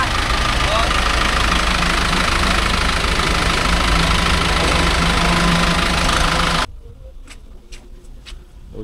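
A new Mahindra Yuvo Tech Plus 585 4WD tractor engine runs loud and steady close by, a continuous rumbling drone that suddenly cuts away near the end, leaving quieter background sounds.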